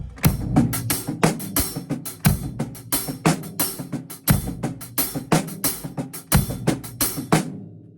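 A drum kit plays a steady, rolling triplet groove of quick strokes, with a thumping bass drum on the downbeat marking the start of each cycle.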